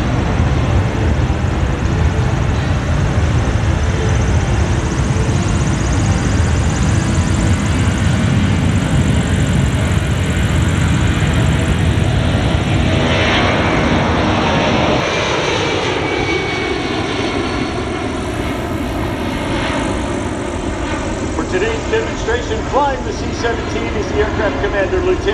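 A US C-17 military transport aircraft at an air show, its engines roaring loudly and continuously on the runway with a rising, shifting whine, while an announcer talks over it.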